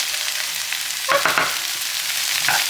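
Onions caramelize in a hot pan with a steady bright sizzle, and a short burst of stirring clatter cuts in near the middle.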